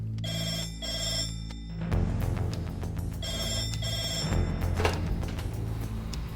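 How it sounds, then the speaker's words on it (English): At an air ambulance base, a red telephone rings in repeated loud electronic bursts, close and steady, with short gaps between the rings and a low background hum. "when that red phone rings, we're ready for action."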